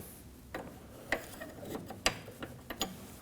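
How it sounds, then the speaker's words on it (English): A 19mm wrench working the jam nut on the tie rod of a 1993–2001 Subaru Impreza, a series of faint, separate metallic clicks and ratcheting ticks spread irregularly over a quiet background. "We can go ahead and break our jam nut free with a 19mm."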